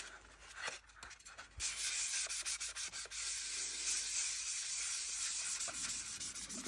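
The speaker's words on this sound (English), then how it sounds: "You can hear it with the sandpaper. Hits it just a little bit." Sandpaper rubs back and forth over the plastic trunk lid of a Revell 1968 Pontiac Firebird 400 model kit. The close, continuous scratchy hiss swells and pulses with each stroke, with no speech.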